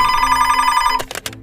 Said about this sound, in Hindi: रात को 1 बजे पेंसिल्वेनिया पुलिस को एक फोन आती है